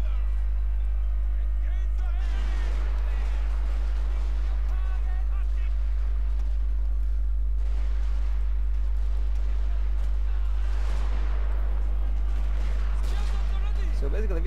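Musket volleys in a Total War Shogun II online battle, repeated bursts of distant crackling gunfire spread across a steady droning battle bed, with someone talking over it.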